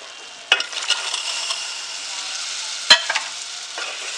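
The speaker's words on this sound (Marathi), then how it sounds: "मी इथे कलरसाठी मिरची पावडर टाकलेली आहे. त्यात आपण हे कट ओतणार आहोत." Misal curry poured onto a chili powder tempering in hot oil raises a steady close sizzle, with a sharp splash near the start and another burst of crackle later.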